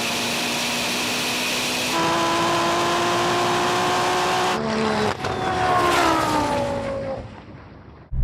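A Ferrari SF90, a 1,000hp Golf R and a BMW M240i roar as they accelerate hard in a drag race, pitch climbing through gear changes before the sound shifts and fades as the cars pull away.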